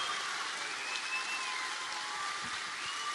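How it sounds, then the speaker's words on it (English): Steady applause from a convention audience for actors Cliff, Ben and Michael, a dense even clapping that hisses like rain and holds at one level throughout, with no talk. "Please give a big round of applause for Cliff, Ben, and Michael."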